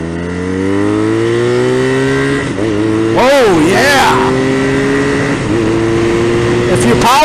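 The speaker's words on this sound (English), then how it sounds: "So there I shifted no clutch and just banged it to redline basically." A BMW R nineT Racer motorcycle power shifted without the clutch and pulled to redline: the engine drones and climbs in pitch, drops sharply at the gear change, then rises again, loud and close under wind rush, with a voice exclaiming over it.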